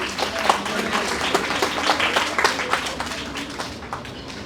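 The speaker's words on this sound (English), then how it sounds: "Can we have a huge round of applause for our judges, please?" Applause from the audience at a university business plan competition, many hands clapping in a dense, steady patter that stays fairly close, with some voices mixed in.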